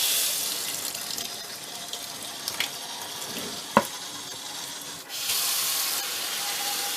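Cold water runs steadily from a kitchen tap into a sink at less than full force, a continuous hiss that briefly dips and returns stronger, with a few small clinks.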